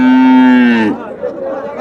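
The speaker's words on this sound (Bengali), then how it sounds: "এই পাশে একটা ফিজিয়ান প্রজাতের জাতের গরু আছে" A loud, close moo from Friesian cattle at a cattle market, long and steady before tapering off, followed by quieter lowing and faint background noise.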